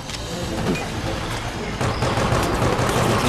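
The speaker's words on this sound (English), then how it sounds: "Hear more gunfire" Sustained gunfire rattles in Operation Raccoon City, with rapid overlapping automatic bursts and shots forming a loud, continuous barrage of close battle noise.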